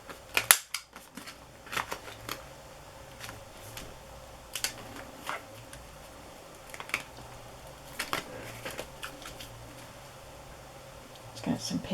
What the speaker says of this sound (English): And I will round the corners of this tag.